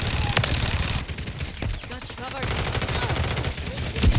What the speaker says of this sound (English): I see someone shooting there.